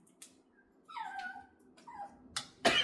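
Dogs whimpering and yipping nearby, a few soft rising whines and short yips against a quiet background, ending in a sharper burst.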